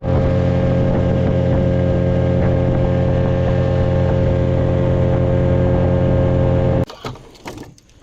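A small motorboat's outboard engine runs loud and steady with a constant droning hum for most of the stretch, then cuts away to wind buffeting and water rushing past.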